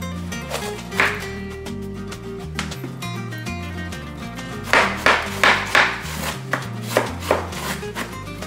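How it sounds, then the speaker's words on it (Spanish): A knife slicing cabbage on a cutting board, a series of crisp chopping strokes, sparse at first, then a quicker cluster of sharp cuts near the end, heard over background music. "Es tiempo de rebanar los vegetales y de rallar el queso. Vamos a empezar con el repollo."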